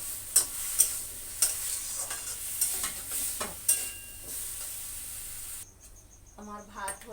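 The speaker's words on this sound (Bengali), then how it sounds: "এবার ভালো করে কষিয়ে নেব সুন্দর করে।" Potato and soya chunks coated in spices and chili powder sizzle in a pan while being stir-fried, with repeated scraping strokes of the spatula over a steady hiss, before the frying cuts off near the end.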